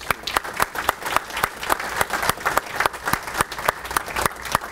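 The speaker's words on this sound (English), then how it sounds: "a round of applause to those folks." A small audience at a dedication ceremony for a family resource center gives a round of applause, with distinct individual claps landing in an uneven, fairly sparse patter close by.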